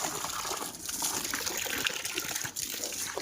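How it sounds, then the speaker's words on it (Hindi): Running tap water pouring steadily into household containers, a continuous close gushing splash that holds at an even level with no talk. "पानी आ रहा है हमारे, तो ये भरने हैं सारे"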